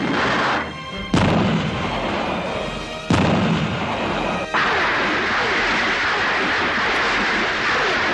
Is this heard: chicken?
no